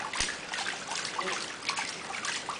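Water runs in a continuous trickling rush, close and steady, with a faint click near the start and no voices over it.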